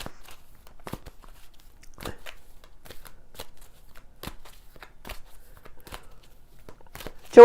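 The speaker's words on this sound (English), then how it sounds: "I will pull a card for you, Joanne." Grace cards being shuffled for a card reading, soft intermittent riffling and flicking taps spaced across a quiet room, ending with a short louder noise.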